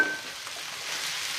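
Blewit mushrooms and shallots fry in a pan with a steady, close hiss of crackling sizzle that carries on evenly throughout, with no voices.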